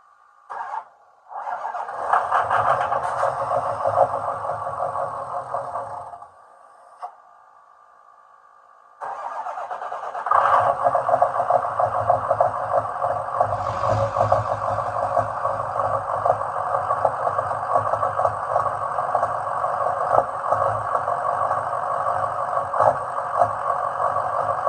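A Ford 6.0 Powerstroke diesel with a freshly installed turbo cranks and fires, stumbles briefly, then restarts and settles into a loud, steady idle that continues unbroken to the end.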